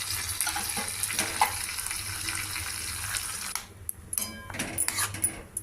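Water pouring steadily into a vessel, a continuous splashing stream that thins and breaks into drips toward the end.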